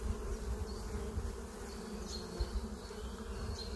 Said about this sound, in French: on voit c'est rempli d'abeilles